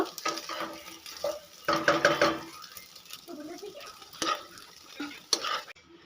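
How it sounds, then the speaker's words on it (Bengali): Soybean chunks fried with egg in a kadai are stirred with a utensil, giving bursts of scraping and clinking against the pan over a soft sizzle, with quieter pauses between the strokes. "সয়াবিনগুলোকে ডিমের সঙ্গে খুব ভালো করে ভেজে নিয়েছি"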